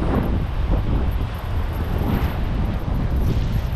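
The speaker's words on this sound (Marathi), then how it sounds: "आज वारा पण खूप आहे, वारा खूपच जास्त आहे" Strong wind roars steadily into the microphone outdoors during cast net fishing near Mumbai, a constant broadband rumble with no voices.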